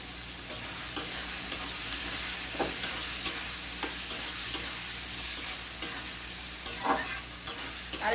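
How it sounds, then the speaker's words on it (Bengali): Spice paste with turmeric frying in a pan for a prawn dish, a steady close sizzle broken by regular scraping strokes of a stirring spatula, with no talking. "সামান্য হলুদ দিয়ে দিলাম যাতে চিংড়ি মাছের জন্য এটা ভালো করে ভেজে নেব"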